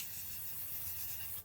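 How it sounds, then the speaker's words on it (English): L'Oreal Infallible Waterproof setting spray misted close up in one continuous airy hiss lasting over a second, cutting off abruptly. "we're going to go in with the L'Oreal Infallible Waterproof Spray"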